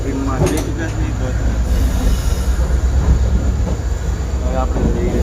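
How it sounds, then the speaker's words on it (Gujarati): A Sabarmati Superfast train runs under way, heard from aboard as a loud low rumble and rattle with bursts of wheel squeal and clatter, continuous throughout with a voice faintly mixed in. "તો ગાઈઝ આપણી ટ્રેન ચાલુ થઈ ચૂકી છે"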